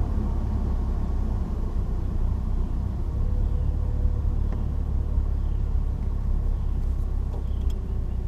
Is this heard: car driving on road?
yes